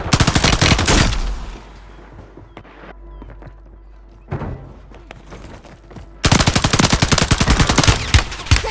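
Automatic gunfire in Call of Duty Warzone 3 on PS5: loud rapid bursts at the start and end, with scattered single shots and quieter distant fire in between.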